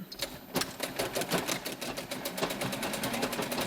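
Sewing machine stitching fabric for reusable tea bags, a steady rapid train of needle strokes running continuously and close by, with brief pauses at the start and end of the seam.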